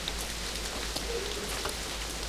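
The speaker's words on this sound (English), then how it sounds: "So, the rain's gotten pretty bad." Rain pours steadily in the video game Castle Meister, falling near a metal dam deep in a ravine as a dense, even hiss on surfaces, with no voices.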